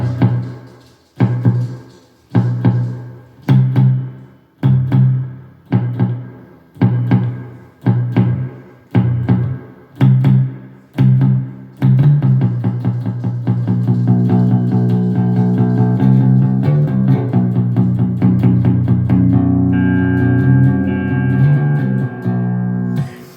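Electric guitar notes on the neck humbucker pickup pulse in an even, ticking rhythm, then swell into a sustained, eerie wash of layered tones.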